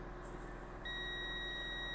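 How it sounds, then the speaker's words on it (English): A digital multimeter in continuity mode gives a sharp, steady electronic tone when its probes touch a capacitor on a 2020 M1 MacBook Air logic board with a shorted 5 V rail, starting partway through and holding to the end. "Okay, we have beep on this one."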